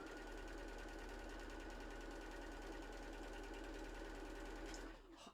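A sewing machine hums and stitches a quilt block seam at a slow, steady pace, running continuously for several seconds before stopping abruptly near the end.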